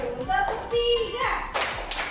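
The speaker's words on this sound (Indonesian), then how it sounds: "Tepuk satu, tepuk dua, tepuk tiga, tepuk empat, tepuk lima" A group of people clapping hands in a counted pattern during a classroom coaching activity, sharp claps in quick sets between a voice calling out the counts.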